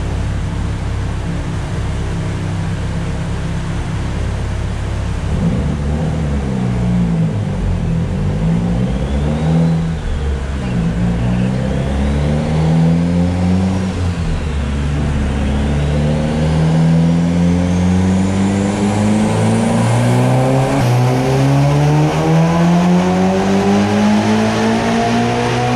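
Mitsubishi Lancer Evolution VIII, a low-mileage car, revving hard on a chassis dyno through a full pull, the engine note rising steadily in pitch through the gears with a whistle of turbo whine, loud and close throughout.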